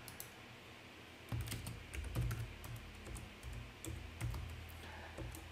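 Typing on a computer keyboard, with close irregular bursts of key clicks after a quiet start, no talking.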